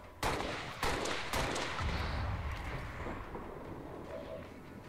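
Three sharp, loud gunshots ring out close together in Halo, each followed by a reverberant tail, then the sound fades into a quiet rumble.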